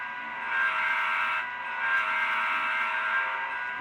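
Horn of a Rapido N-scale Amtrak Turboliner model train sound unit, two loud sustained electronic horn blasts with a brief dip between them, close and alone with no talking.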